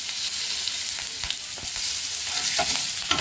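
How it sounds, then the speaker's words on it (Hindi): Cumin seeds sizzle loudly and steadily in hot butter, a close, bright frying hiss with a few soft stirring scrapes. "देखिए बटर गर्म हो गया है, इसमें थोड़ा सा हम जीरा डालेंगे"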